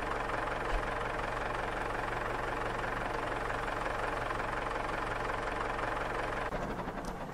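Engine of a broken-down tractor in the farming game Farmers Life idles with a steady, low droning hum and an even, continuous rumble, alone with no talk, before shifting slightly near the end.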